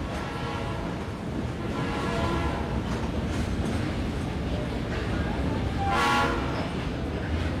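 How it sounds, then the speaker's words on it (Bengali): A small train on a rural branch line rolls along with a dense, continuous rumble and rattle of carriages, loud and steady throughout, with a brief swell of brighter noise near the end. "বড় একটা স্টেশনে গাড়ি বদল করে ছোট একটি ব্রাঞ্চ লাইনে ট্রেনে চড়লাম"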